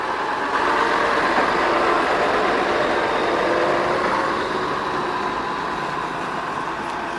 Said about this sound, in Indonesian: lokomotif melanjutkan perjalanan